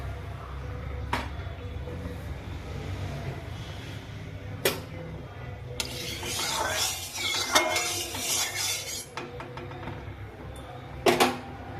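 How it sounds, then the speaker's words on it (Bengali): Mustard oil goes into a hot kadai for a pabda fish curry, giving a quiet pour and soft sizzle in a home kitchen, with a few sharp metallic clanks before and after. "কড়াই গরম হয়ে গেছে, এবারে এতে দিয়ে দেবো সর্ষের তেল"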